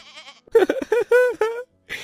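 A pet goat bleats loudly and close by in a run of wavering, nasal cries, preceded by a fainter higher call and followed by a short final bleat.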